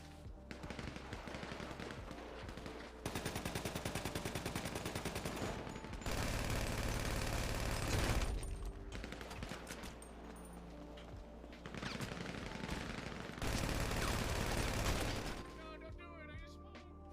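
Long bursts of automatic fire from a light machine gun and an Uzi in a GTA roleplay game, several sustained volleys separated by short pauses, loud and close, with mechanical clicks near the end.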